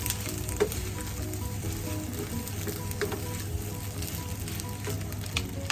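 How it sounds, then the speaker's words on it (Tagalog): Egg fried rice toasting in a pan gives a loud, even sizzle and crackle throughout, with a few faint stirring knocks and no voices. "Simple lang siya na fried rice with egg. I-toasted lang natin siya."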